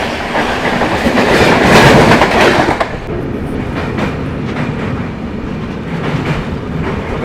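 The 12275 Prayagraj–New Delhi Humsafar Express rumbles loudly across the Yamuna river bridge, a dense steady roar with rhythmic wheel clatter that swells and then eases slightly partway through.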